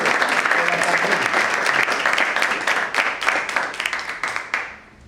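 Applause from a lecture audience for Horacio Rovelli before a talk on Argentine economic history, loud, dense clapping from many hands that thins into scattered claps and fades out at the end.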